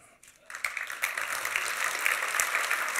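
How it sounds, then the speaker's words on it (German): Applause from an audience at an awards ceremony for a construction machinery prize, starting faintly and swelling into steady clapping that holds at moderate loudness. "Applaus"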